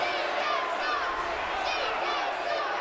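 A wrestling crowd of Assumption College fans at a match of John E. Bravo and Conrad Kennedy III against the Bump-n-Uglies chants and jeers at CK3, a dense, steady roar with rhythmic shouted cadences throughout.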